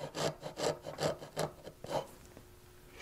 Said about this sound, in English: I use needle files and other metal files to